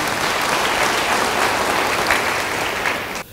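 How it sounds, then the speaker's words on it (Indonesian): A church congregation breaks into continuous, full applause, dense clapping holding steady before cutting off abruptly. "Yang setuju beri tepuk tangan bagi dia."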